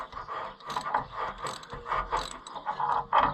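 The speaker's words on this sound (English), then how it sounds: "since we're not cutting new threads, we're just cleaning old threads" A Snap-on tap socket ratchets through old threads to clean them during a differential lock repair on an Oliver 1365 tractor, giving a steady run of close, crisp mechanical clicks with no talking.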